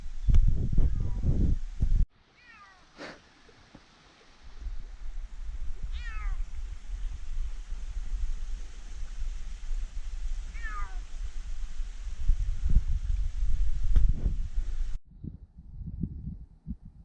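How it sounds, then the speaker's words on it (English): Cats meow repeatedly outdoors on a Portuguese mountainside garden, several drawn-out calls spaced across the stretch over steady wind and rustling, with a voice briefly at the start and end. "George, the whole mountain is meowing"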